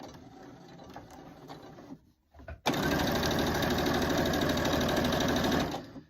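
A sewing machine stitches corner to corner across quilt fabric: after a brief quiet handling pause, a loud, fast, even mechanical whir runs steadily for about three seconds before slowing to a stop.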